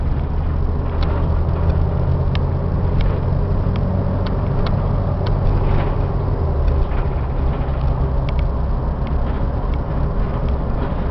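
Ford van with a raised roof and handicap lift idling, a steady low engine rumble running evenly throughout with no talking.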